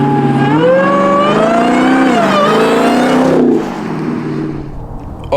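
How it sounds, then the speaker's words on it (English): A car's engine whines as it accelerates, a loud, close, high-pitched tone that climbs and wavers for several seconds before dropping away into a lower, quieter hum. "you don't even have to go fast and that car starts whining"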